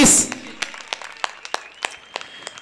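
A few hands clap in a steady, evenly spaced rhythm for batsman Rahul Patil at a local cricket match, Giravale vs. Koliwada in Panvel, after a short opening burst of noise.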